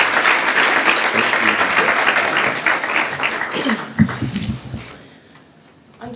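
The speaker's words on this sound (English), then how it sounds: "Please give her a round of applause." A luncheon audience applauds a keynote speaker with loud, dense clapping for about four seconds, then it thins into scattered claps and fades out.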